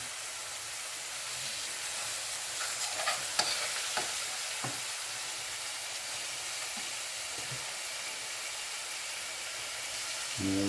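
Garlic rockfish fillets brown in a stovetop pan, giving a steady soft hissing sizzle with a few light clicks and taps and no voices.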